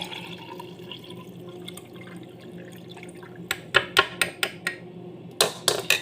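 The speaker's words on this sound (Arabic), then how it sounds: "بصفيه بالمصفى" A homemade morning drink with celery being poured through a strainer, first a steady soft trickle, then a series of sharp drips and splashes landing close by, without speech.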